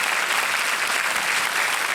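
Studio audience applause on a Hindi-language quiz show, a steady wash of many hands clapping that holds at an even, loud level throughout, with no talking over it.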